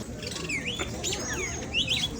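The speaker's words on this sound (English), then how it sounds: "And also record the bird sound." Birds at a zoo chirp and whistle in quick, bright sweeping calls over a steady background rumble of outdoor noise, several short phrases close together.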